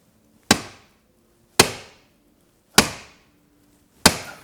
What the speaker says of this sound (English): even hitting it as hard as I can hit it against this stainless plate here, I cannot get that spring to pop free of that lip